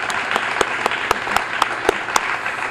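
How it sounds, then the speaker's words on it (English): A crowd applauding at a supermarket grand opening as the store director is introduced, with continuous clapping and several louder sharp claps standing out near the microphone. "so please give him a round of applause."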